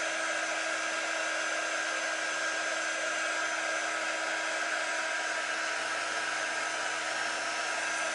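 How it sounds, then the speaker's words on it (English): A heat tool blows hot air steadily to set ink on fabric, a constant hissing roar at even volume throughout, with no talking. "I also like heat setting the ink on fabric because it gives it a very nice finish."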